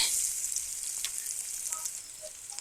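Chopped onion sizzles in hot oil inside a wok, a steady bright hiss of frying with faint crackles, close and continuous with no voices.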